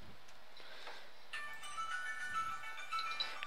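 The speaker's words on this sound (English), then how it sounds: "Oh, I'm getting a phone call." An incoming phone call rings as a short, tonal ringtone melody that starts partway through and repeats with bright electronic notes, moderately quiet against background room noise during a Minecraft modpack session.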